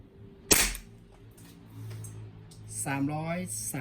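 A Tokyo Marui Hi-Capa 5.1 T-Rex airsoft pistol fires a single sharp, loud crack into a chronograph, followed by quiet handling noise and then someone speaking.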